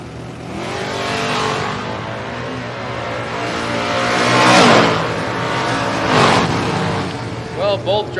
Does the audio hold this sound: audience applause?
no